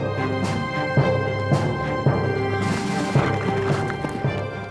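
Galloping horses of a Cossack cavalry troop in a battlefield sound effect, with rhythmic, repeated hoof thuds over a steady rumbling bed, fairly loud and continuous with no voices.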